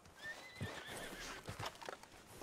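A horse in the video game Red Dead Redemption II, on a RedM roleplay server, gives a faint, rising whinny alongside soft clip-clopping hooves and quiet thuds, all at low volume.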